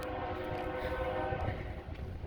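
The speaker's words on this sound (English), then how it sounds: "we got a train going by" A train passes at a distance, a steady low rumble of rail cars rolling by, partly muffled behind buildings, with no clear horn blast standing out.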